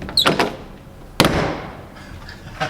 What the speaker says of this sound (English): I like the doors to shut properly and nicely